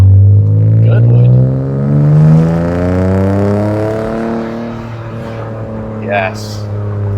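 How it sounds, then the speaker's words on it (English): Straight-six roadster engine revving with a raspy exhaust growl, the pitch sweeping up and down in long, loud pulls, close by, with voices talking over it. "It's just that classic raspy growl. Yeah, that straight six sound is so much more noticeable."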